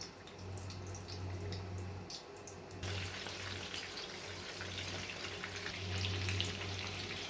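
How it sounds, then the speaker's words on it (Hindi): Mutton and egg koftas fry in hot oil in a pan, a soft, even bubbling sizzle that swells slightly partway through under a low steady hum, with no voices. "इसमें हम कोफ्ते इस तरह से डाल देंगे। इनको हमने फ्राई करना है।"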